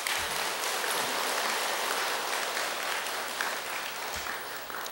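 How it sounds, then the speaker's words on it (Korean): An audience at a Buddhist temple gathering applauds a choir after its song, giving dense, steady clapping that fills the room evenly for several seconds. "우리 합창단에게 박수 한번 보내주세요."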